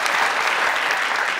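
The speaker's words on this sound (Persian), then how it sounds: "مبارکشان باشه و تشویقشان کنیم دوستان." A studio audience at a Persian game show applauds the winning team, giving steady, dense clapping that fills the room without any break.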